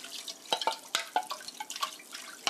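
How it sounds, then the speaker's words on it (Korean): Sweet and sour sauce poured into a pan over medium heat for a hamburger steak dish, heard as a run of quiet, wet drips and splashes in irregular bursts, with no one talking. "이 팬에 아까 만들어 놓은 소스 부어주세요"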